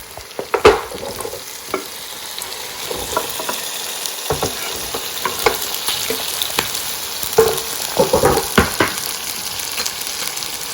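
Onion, tomato and green chili sauté in a pan with ginger and garlic for matar paneer, sizzling steadily while a utensil stirs and scrapes in irregular clicks and knocks close up, with no talking.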